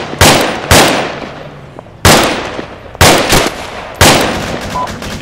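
Gunfire from the military shooter Arma 3: five loud, sharp shots at irregular intervals, each with a long decaying echo, close and prominent with no talk.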